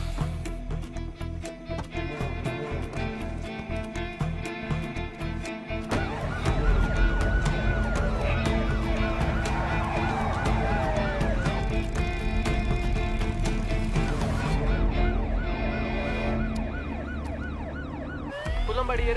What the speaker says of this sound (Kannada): ಕುಲ್ಲಂಬಾಡಿ ಏರಿಯಾದಲ್ಲಿ ಒಂದು ಆಂಬ್ಯುಲೆನ್ಸ್ ತುಂಬಾ ಹೊತ್ತಿಂದ ಓಡಾಡ್ತಿದೆ